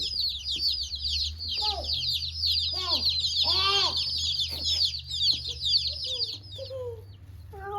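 Chickens cheep and chirp in rapid, high bursts close by, with a low hum and some clucking-like calls mixed in.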